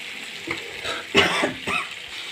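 Vegetables with sugar, cumin and coriander powder stir-fried in a pan for a vegetarian mixed-vegetable curry: soft sizzling under a few louder scraping stirs near the middle and end, close and moderately loud, with no talking.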